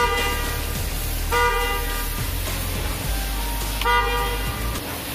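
A Mitsubishi L-300 car horn, just fixed after its button had died on one side, sounds two sustained honks, the second starting after a short pause, steady and fairly loud over a low engine-like hum.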